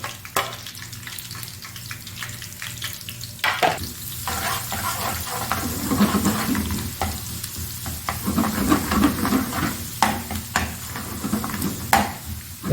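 Garlic sizzling in hot olive oil with cumin and crushed red chili as it browns in a pan, a steady frying hiss broken by scraping stirs and occasional clinks, close and moderately quiet.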